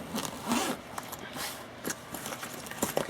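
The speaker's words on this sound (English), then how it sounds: "It zips up with no problems." A bag zipper being pulled closed, with a couple of bursts of rasping zip strokes amid light handling noise and faint scraping, close and moderately quiet.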